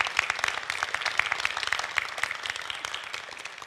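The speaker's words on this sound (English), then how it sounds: "a huge round of applause" A small crowd at an NHS East Genomics showcase event in Peterborough applauds, dense overlapping claps at moderate volume that carry on throughout and thin out slightly toward the end.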